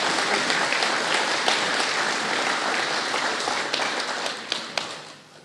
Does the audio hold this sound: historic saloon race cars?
no